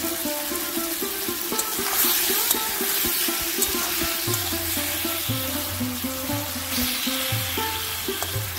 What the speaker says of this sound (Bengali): 5 মিনিট কষিয়ে নিয়েছি টমেটো আর কাঁচা আম।